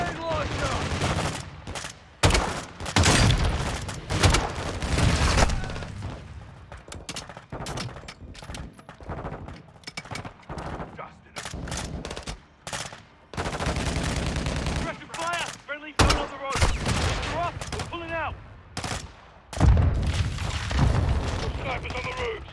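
Heavy video game firefight on veteran difficulty with grenade launcher blasts and rapid gunfire, repeated loud booms and bursts of shots in irregular clusters, with people talking between and under the shooting.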